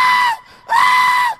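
A comedian imitates a woman screaming in two loud, sustained, high-pitched wails separated by a brief pause, performed on stage.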